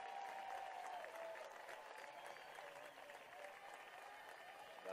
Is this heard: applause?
yes